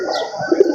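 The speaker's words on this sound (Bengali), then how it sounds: "এটা হলো একটা ভিজে গলা কবুতর" A wet-throat (bhije gola) pigeon gives a short, close, soft throaty coo, a brief burble heard on its own with no talking.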